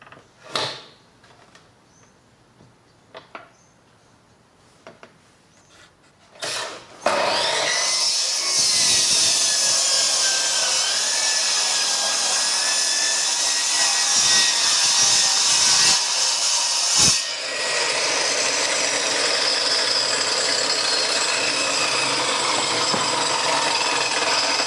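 A hand saw cuts through wood for a model train layout baseboard in steady, loud, rasping back-and-forth strokes lasting nearly twenty seconds, with a brief pause partway through and a few light knocks beforehand.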